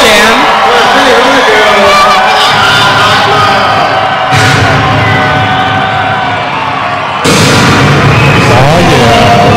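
Roller derby arena crowd in a darkened venue before the first jam of the second half, loud roaring cheers and whoops blended with booming PA audio effects, dropping briefly before surging again.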